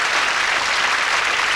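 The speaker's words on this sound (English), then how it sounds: "That was a lovely round of applause for a very brave lady." Audience applause on a 1985 television magic show, a brief, loud and dense wash of studio clapping with no voices over it.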